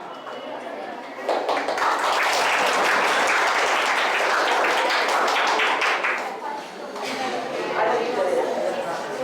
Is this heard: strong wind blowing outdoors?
no